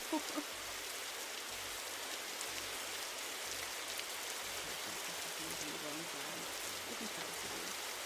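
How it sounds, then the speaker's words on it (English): Steady video-game rain hisses evenly and softly, a continuous wash of falling drops with no other sounds standing out. "we're gonna turn down the rain just a little bit"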